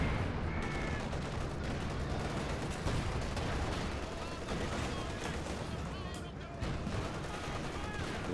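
Tank guns and other weapons fire repeatedly in a Company of Heroes match, a thick, continuous barrage of booms and crackling shots with a commentator talking throughout.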